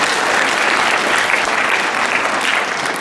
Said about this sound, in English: Let's give her a good round of applause.